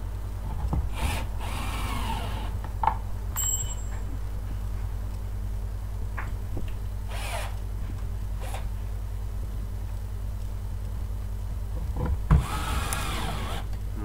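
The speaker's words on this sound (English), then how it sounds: "I'm going to screw that down to the top here" A power driver screws scrap plywood down onto a cement bonsai pot mould, with several short whirring bursts of the screw being driven at close range, separated by quieter stretches over a steady low hum.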